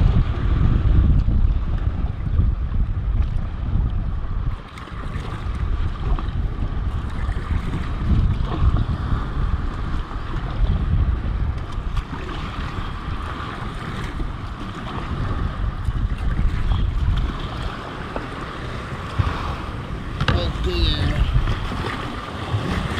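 Strong wind buffeting the microphone while kayak fishing back toward shore in Malaysia, a constant roaring rumble with water sloshing and faint voices underneath.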